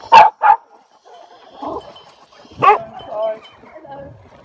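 A dog barks twice sharply up close, followed by softer yips and whimpers as a person talks over and between the sounds.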